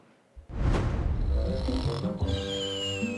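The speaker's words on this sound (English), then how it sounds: "It's Sing and Snore Ernie." A Sing and Snore Ernie plush toy, the Sesame Street doll from 1996, gives one long loud electronic snore that rises and then trails off into a fluttering, whistly exhale. No one talks over it.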